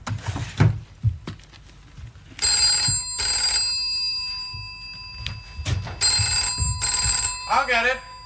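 An old telephone bell rings in two long bursts separated by a pause, loud and close, with voices and movement in the room around it.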